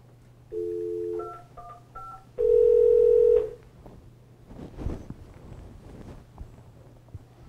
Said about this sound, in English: Thomas, if you have your phone on hold, could you take that off of hold so that Jess can try calling you?